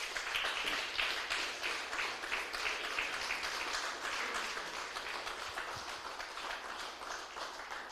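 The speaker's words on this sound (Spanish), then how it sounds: "Denle un aplauso fuerte al Señor" A church congregation claps continuously and fairly evenly, a sustained round of applause that stays steady throughout.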